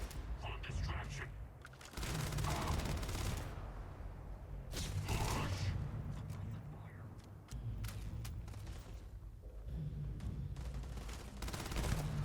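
Gunfire in the sci-fi game Starfield: steady bursts of shots crackle through nearly the whole stretch, fairly loud and dense, with faint voices mixed in beneath the combat.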